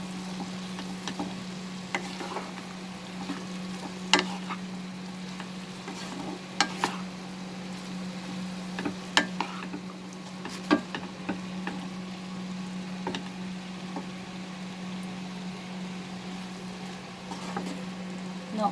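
Bitter gourd and shrimp saute over medium-high heat in a pan, giving a steady close sizzle throughout with scattered light clicks and scrapes of stirring, no talking.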